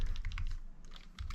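Fingers tap out a password on a laptop keyboard plugged into a Samsung Galaxy Book Go Snapdragon laptop, giving quick close clicks in two bursts around a short pause.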